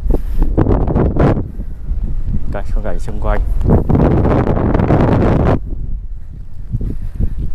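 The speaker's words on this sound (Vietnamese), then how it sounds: "Trời đang mưa, gió thổi khá mạnh." Strong wind buffets the microphone during rain on a Central Highlands mountain, loud and roaring in gusts beneath someone talking throughout.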